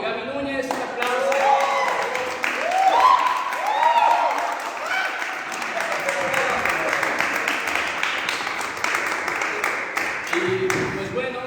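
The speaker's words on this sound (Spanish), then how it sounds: "Un aplauso." Audience applause after the cast of a stage play is introduced at a theatre talk, a broad sustained wash of clapping over about ten seconds with some voices and cheers mixed in, fading near the end as a speaker resumes.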